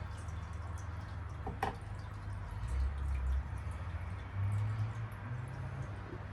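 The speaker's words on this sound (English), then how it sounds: "to check the flow of the water, we're just going to lift the little nozzle out of the water" Water trickles and drips from the lifted nozzle of a Fluval Flex 34 aquarium filter, a faint, close, steady splashing with a low hum beneath.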